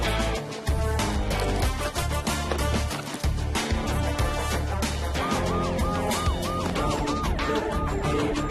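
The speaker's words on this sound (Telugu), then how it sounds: "పోలీసులో ఉన్నారు, సైరన్ కొడుతున్నారు." A police car siren wails in a repeating rising-falling cycle through the second half, joining loud vehicle engine rumble and crashing impacts that fill the whole scene.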